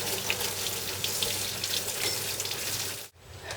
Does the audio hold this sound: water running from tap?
yes